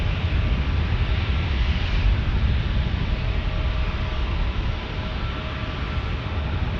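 An airliner in the special Colorado One livery roars steadily at San Diego airport, a loud, continuous broadband engine rush that holds nearly constant for the whole stretch without voices.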